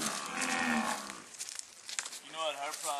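A cow on a farm lets out a long, loud moo, followed by softer, rougher lowing and breathy bovine calls close to the microphone. No one speaks.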